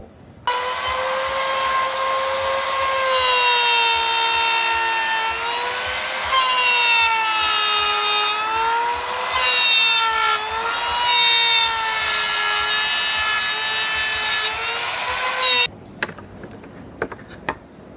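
A handheld trimmer router cuts a groove into a wooden workpiece for a recessed handle, giving a loud, steady high-pitched whine with slight pitch wavers for about fifteen seconds before stopping abruptly.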